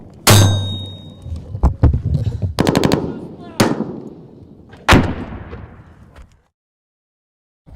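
Near an A-10 Warthog attack aircraft, weapon fire strikes a target in a series of sharp, loud bursts and heavy impacts with clanging echoes over roughly six seconds, then silence.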